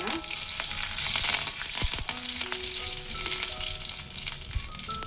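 Mustard seeds, cumin and curry leaves crackling in hot oil, a dense close sizzle peppered with sharp pops and spits throughout, with a couple of clanks from a utensil.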